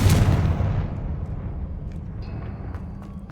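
A Confringo fire spell blast in Hogwarts Legacy, a single loud booming burst at the start that rolls off into a fading rumble, with faint magical tinkles afterward.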